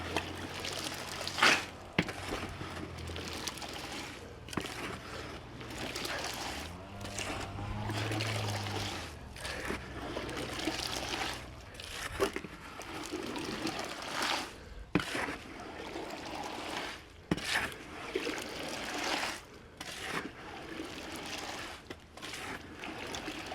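Water is poured into a concrete mix, giving a steady, fairly faint trickling and pouring that runs throughout, broken by scattered knocks and sloshing.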